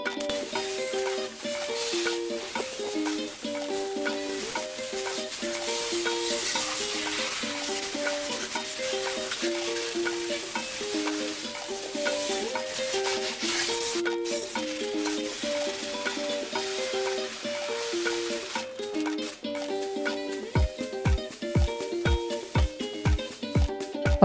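Water spray rinsing a ceramic-coated car, a steady broadband hiss that runs the whole time beneath a tinkling melodic music backing, with a few soft thumps near the end.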